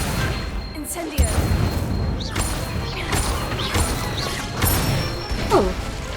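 Spells such as Incendio, Levioso and Accio cast at a training dummy in Hogwarts Legacy, a run of whooshing bursts, crashes and magical impacts over busy game ambience, with a voice calling out between them.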